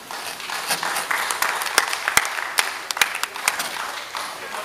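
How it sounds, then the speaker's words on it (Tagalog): Scattered audience clapping at an overnight camp training gathering, uneven and moderately loud with individual sharp claps popping out of a lighter continuous patter. "Okay, palakpakan po natin,"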